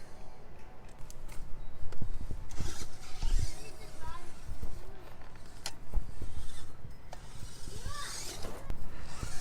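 A Traxxas TRX4M RC crawler truck fitted with a 2-speed manual transmission runs with a continuous whining motor, rising and falling pitch sweeps as it shifts and climbs, and occasional clicks and creaks throughout.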